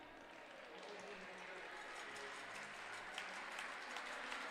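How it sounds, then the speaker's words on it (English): Fans in a packed university gym applaud both women's volleyball teams after a four-set match, a steady, dense wash of clapping filling the whole stretch with a faint murmur of voices underneath. "both sets of fans here in a very full Langella Athletic Center give a well-deserved round of applause to both of these teams"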